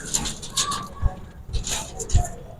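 Young pigeons coo in low, soft, repeated throaty pulses against a busy background with murmuring voices.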